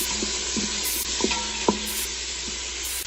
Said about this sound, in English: We're gonna saute this bacon,